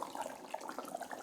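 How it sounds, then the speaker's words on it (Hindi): Plain water pours into a pot of hot and sour soup in a kitchen, a short, close, bubbling gurgle that is fairly soft. "आधा कप पानी मैं इधर से ऐड करती हूँ"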